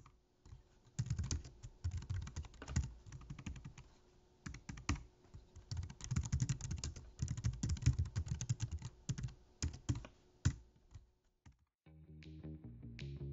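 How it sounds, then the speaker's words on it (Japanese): Typing on an iClever mobile keyboard, a steady run of light key clicks and clacks in close, quiet surroundings, with a brief pause and a different muffled texture near the end. "実際のタイピング音はこちら。"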